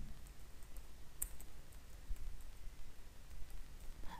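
Quiet, sparse clicks of a computer keyboard as a command is typed, faint and close with small irregular gaps between keystrokes.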